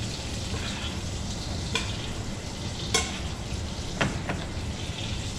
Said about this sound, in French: Donc là, on va la faire en cuisson saignante.